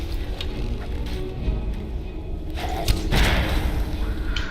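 Arrows strike during a boss fight in Skyrim, a fantasy video game, with dull thuds and whooshes over dense, loud game music and ambience.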